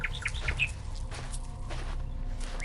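Village birds chirp in the morning air, with several short tweets early on over a steady outdoor background hum, the calls near and moderately loud.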